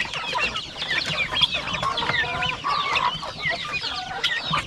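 Guinea fowl call from a poultry pen, a dense chorus of overlapping harsh, rhythmic clucks and chatter that carries on steadily close by, with no talk over it.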